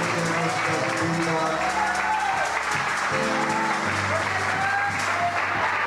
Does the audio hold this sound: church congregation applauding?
yes